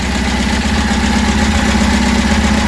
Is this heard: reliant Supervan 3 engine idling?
yes